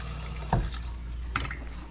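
Snapper fish being washed in water, with a steady low wash of running water and two brief splashy sloshes as the fish are handled, close and moderately loud, no talking.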